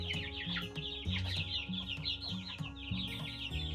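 Cornish Cross and Barred Rock chickens clucking close by, a dense overlapping chatter of clucks and chirps from several birds, lively and continuous.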